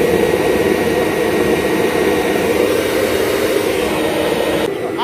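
Steady, loud broadband roar of the air blower on a homemade oil-fired foundry furnace, running continuously and close, with no speech.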